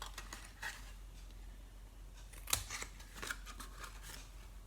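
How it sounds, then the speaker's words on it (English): Scissors snip away a score line on a wax melt box, quiet close crisp cuts in a loose run of strokes over a faint steady hum. "You're basically just cutting away that score line."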